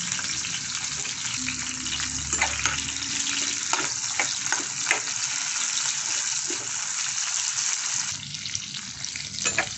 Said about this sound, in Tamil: பாவக்காய் போட்டு நல்லா பொரிச்சிக்குவோம்.